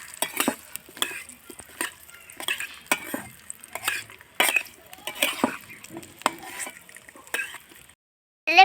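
Vegetable khichuri stirred in a pot with a spoon, making repeated scraping and clacking strokes in an uneven rhythm over a soft sizzle, close by and with no voices.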